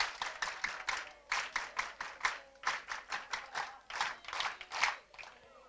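Rhythmic group clapping at a church gathering, a quick series of distinct bursts of hands striking together in an even pulse, moderately close and fairly quiet, with little talk over it.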